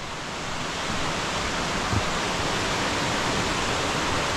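A waterfall roars in a mountain valley at Odaesan's Sogeumgang gorge, a dense, constant broadband rush that holds steady throughout with no voices.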